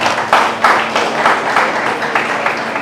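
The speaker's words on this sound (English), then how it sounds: "please let us give him a round of applause" An audience at a lecture applauds steadily, a continuous wash of many hands clapping at moderate volume that holds for the full stretch with no voices over it.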